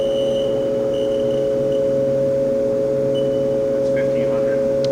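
Steady fan whir from a Haas vertical machining center idling with its spindle turning quietly at 500 RPM, a constant close hum with faint tonal whine and a few small ticks near the end.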